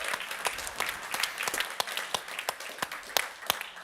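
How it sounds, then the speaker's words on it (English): Audience at the BLISS 2025 event panel applauding, a modest room of clapping hands with distinct sharp individual claps standing out, steady for a few seconds. "A round of applause,"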